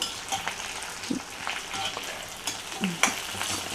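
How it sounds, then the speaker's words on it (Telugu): Onions fry in a pan for horse gram rasam, a steady soft sizzle with occasional scraping and stirring clicks from a utensil, close and without voices. "కొంచెం ఫ్రై అయిపోయినాయి ఉల్లిపాయలు"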